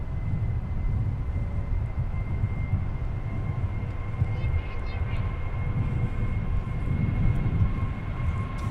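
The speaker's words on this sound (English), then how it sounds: "we got United that's departing 30 left" A United airliner departing runway 30 left at Minneapolis–St. Paul airport, a steady distant jet engine roar with a faint high whine, continuous and fairly quiet.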